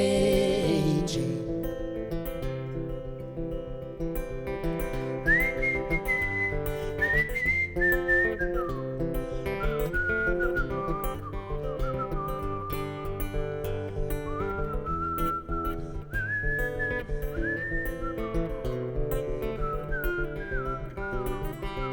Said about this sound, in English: Sarah Vitort, whistling her heart out up here.